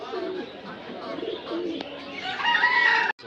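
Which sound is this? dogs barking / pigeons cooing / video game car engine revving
pigeons cooing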